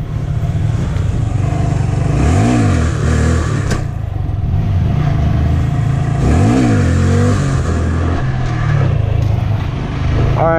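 A Honda Grom motorcycle revs hard during wheelies, the engine loud and close, rising and falling twice in strong revving swells over a constant drone.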